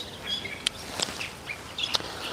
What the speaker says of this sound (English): Normally, Chinese people like to keep this beautiful singing bird in the cage